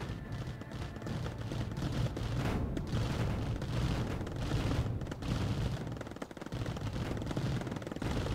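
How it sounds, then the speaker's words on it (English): Rapid gunfire from an attack on an enemy base in the video game Mindustry, a dense, sustained barrage of shots and booms that continues steadily throughout at moderate loudness. "Let's shoot these batteries before we all die to battery explosions."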